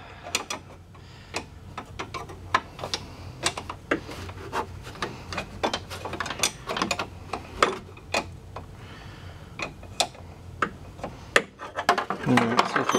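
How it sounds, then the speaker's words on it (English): Wrenches work bolts on an aluminum winch fairlead, giving irregular sharp metallic clicks and ratcheting ticks with scraping in between, close and moderately loud over about thirteen seconds. "So I'm just working the wrenches."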